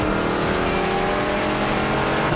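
Car engines roar in a demolition derby video game, a dense continuous revving with tire noise, loud and unbroken throughout.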